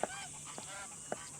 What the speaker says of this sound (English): I see a huge collection of geese.